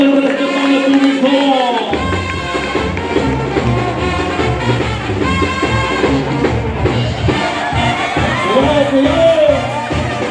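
At a traditional bullfighting fair in Tonaya, Jalisco, a large crowd roars with cheers and shouts over lively music, loud and sustained throughout, with an announcer's voice mixed in.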